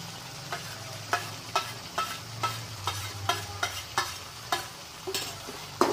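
A spoon scrapes and stirs ginger-garlic paste into tomatoes frying in a pan while cooking chole, with regular clinking strokes about twice a second over a low sizzle.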